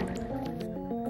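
Water trickles and drips in a Zelda: Majora's Mask temple, set against a steady tonal game hum. The liquid sloshes softly and close over the sustained drone for about a second.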